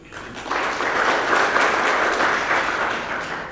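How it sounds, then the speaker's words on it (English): Sustained audience applause at an African curriculum conference, a dense wash of many hands clapping that swells quickly and holds steady at full strength for a few seconds before easing slightly, with no talking over it. "I think she deserves a better clap."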